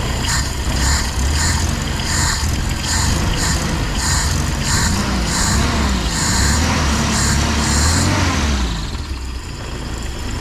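An owner-type jeep engine running just after being started, a loud close idle with rhythmic pulsing and a slight rise and fall in revs, fading a little at the end.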